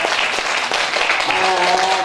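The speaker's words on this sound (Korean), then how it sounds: "박수로 큰 박수로 한번 축하해 주십시오." An audience at a year-end charity concert bursts into loud applause for a donor, dense clapping sustained throughout with a faint tonal sound emerging underneath in the second half.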